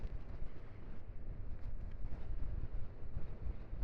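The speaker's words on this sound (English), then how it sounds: "The wind hasn't half picked up." Wind buffets a rider on a Honda NX500 motorcycle on bumpy roads, a low gusty roar that rises and falls in uneven bursts at a fairly quiet level.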